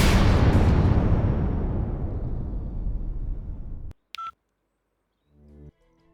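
A short electronic telephone tone beeps once, briefly and clearly, right after a loud, decaying rumbling boom fades to silence, followed later by a low hum.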